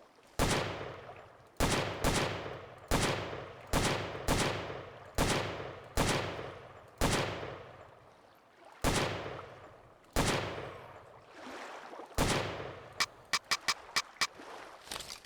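A weapon firing in the shooter game Redacted - Hired Gun, about a dozen loud, close single shots at a steady pace, each with a short decaying tail, ending in a quick rapid burst of fainter shots, with no voices.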